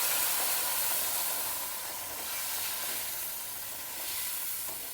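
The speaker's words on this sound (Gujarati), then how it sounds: "હવે આપણે એમાં નાખી દેવાનું છે દૂધ।" Milk poured gradually into hot roasted semolina (rava) in a pan for sheera, a steady broadband sizzle and steam hiss that holds strong throughout, swelling slightly near the end, with no voices.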